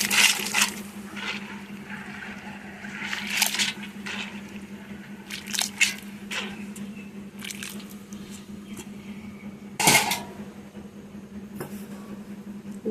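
Soaked lentils for dal are tipped into hot water in a pot, making wet squishing and splashing sounds with a few sharper splashes over a steady low hum.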